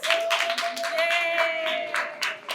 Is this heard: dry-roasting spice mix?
no